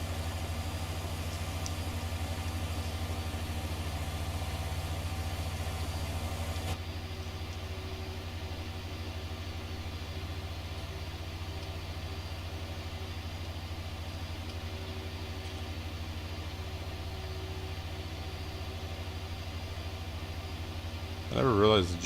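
Tractor engine idling steadily in a farming video game, a low continuous drone with a faint hum, ending in a brief louder burst.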